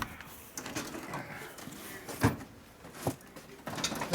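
In a workshop, a drawer is pulled open and pushed shut while someone searches it, making a couple of sharp sliding clunks and rattles over steady background noise, with no talking.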